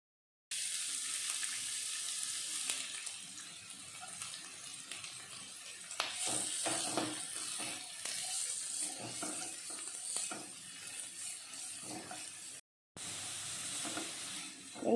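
Steady sizzling of chopped onions frying in a hot pan after ginger and garlic, with occasional stirring scrapes and clinks, close by and without any voices.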